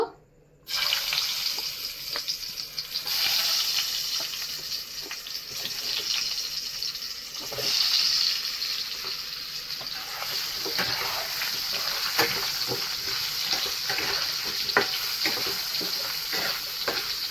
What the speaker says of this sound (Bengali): মাছ ভাজা তেলেই আমি আলুটা ভেজে নেব।